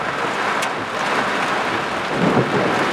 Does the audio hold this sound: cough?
no